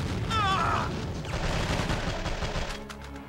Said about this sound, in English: How's this gunfire anyway?